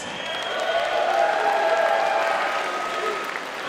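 Crowd at a wrestling show applauding and cheering, a dense steady wash of clapping with whoops that swells in the middle and eases slightly toward the end.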